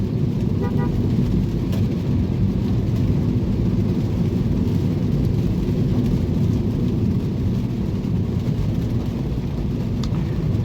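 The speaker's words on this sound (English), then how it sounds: "Oh, the rain is amazing." Steady broadband rain hiss and road rumble from inside a Toyota Corolla driving through a December downpour, a constant dense wash with no break, loud and close throughout.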